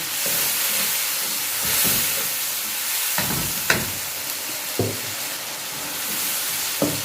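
Water is added to sizzling Sindhi fish masala in a hot pan, producing a steady loud hiss and frying crackle with a few sharper stirring clinks over it.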